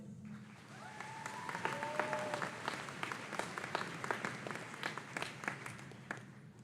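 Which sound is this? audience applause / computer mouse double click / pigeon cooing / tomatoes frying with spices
audience applause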